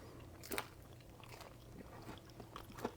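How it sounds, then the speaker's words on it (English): Someone takes close, quiet bites of jalapeno bread, giving a few soft crunches and some chewing over a faint background hum. "There's that crunch."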